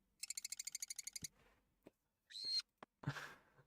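A generic bird call effect used for a pigeon in a game: a rapid pulsing trill, then a few short chirps and a harsher squawk, with no voices.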